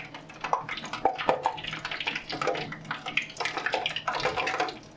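Freshly fried chips rest on a ledge above hot oil as they drain, giving a continuous dense crackle and fizz that stays close and steady, with no talk over it.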